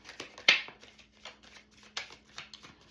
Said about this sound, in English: when I'm shuffling